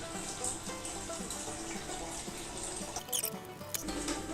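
Water running out of a keg tap while cleaning solution drains from a corny keg, a steady splashing trickle with a few brief sputters near the end, moderately quiet and without speech.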